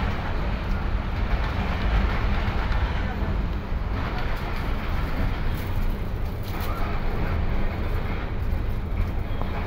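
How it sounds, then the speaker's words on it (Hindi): ZCU 26410 locomotive pulling a luggage van away on a Pakistani railway, a steady loud rumble with rail clatter running throughout, with no clear speech over it. "ये जा रहा है लगेज वैन को लेकर ZCU 26410 लोकोमोटिव"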